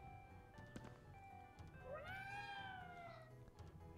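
A cat meows once in Ghostwire: Tokyo, a clear rising-and-falling call over a low steady game ambience, with no talking.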